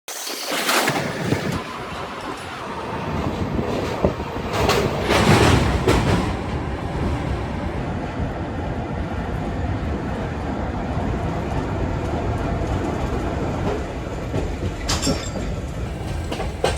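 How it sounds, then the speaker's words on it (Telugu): A passenger train runs over the Krishna river bridge, a loud continuous rumble with rhythmic clickety-clack of wheels on rails and brief metallic squeals, heard close up from on board with no talking. "నేను వెళ్ళే ట్రైన్ ఏదంటే"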